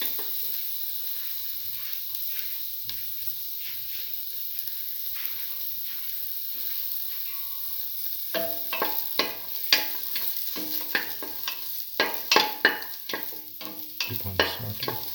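Shallots sautéing in oil in a pan, a constant soft sizzle that turns busier halfway through, with clustered scrapes and clinks of stirring and bright crackles near the end.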